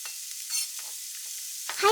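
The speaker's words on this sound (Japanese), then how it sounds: "まずひき肉 80g くらい炒めます" About 80 g of ground meat sizzles in a frying pan, giving a soft, continuous frying hiss with a brief louder burst near the end and no voices.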